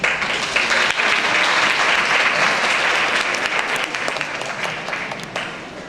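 An audience at a high school graduation ceremony applauds steadily and warmly for several seconds, a dense wash of clapping from a sizable crowd that tapers slightly toward the end.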